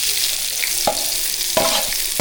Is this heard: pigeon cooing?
no